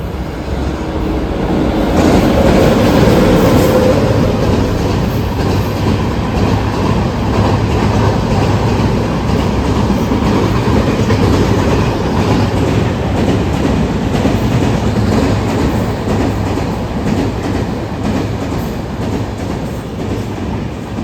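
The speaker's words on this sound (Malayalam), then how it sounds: "ആദ്യമായിട്ടാണ് ഞാൻ ട്രെയിനിൽ കയറാൻ പോവാണ്" A passenger train rumbles steadily along the rails near Ettumanoor railway station, with a loud, continuous roar and faint rhythmic clatter of the wheels throughout.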